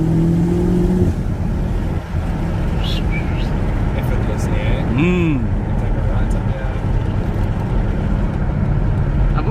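A BMW M8 Competition on the road gives a strong, continuous engine roar under hard acceleration from inside the cabin, while people talk over it.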